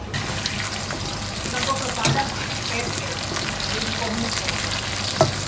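Small pieces of beef sizzle steadily in hot oil in a frying pan for soto Padang, a continuous crackling hiss throughout, loud and close.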